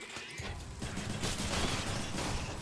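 Cannon fire hitting enemies in a roguelike video game, a steady noisy rumble of repeated blasts and impacts that swells and holds at moderate loudness throughout.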